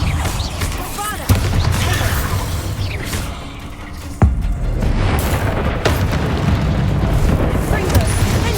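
Bombarda blasting spells burst in heavy, booming explosions during a Hogwarts Legacy fight, two sharp hits standing out over a loud, rumbling din of combat.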